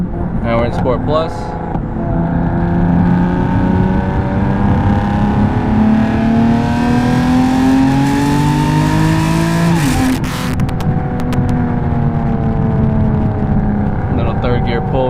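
BMW fitted with ARM resonated downpipes and an Active Autowerke equal length mid pipe, heard from inside while accelerating hard in third gear in Sport Plus mode, a loud rising engine drone climbing steadily in pitch before a shift.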